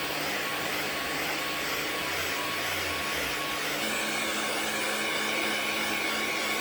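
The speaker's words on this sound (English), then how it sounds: "we use a vacuum cleaner with an upholstery or brush attachment to vacuum all sides of the pillow, especially along seams" Vacuum cleaner fitted with an upholstery brush attachment running over a pillow, a loud continuous roaring hiss that holds steady throughout, close and alone without voices.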